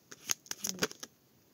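Tarot cards being handled and shuffled at close range, a burst of sharp papery flicks and slaps in an irregular rhythm, with no talking.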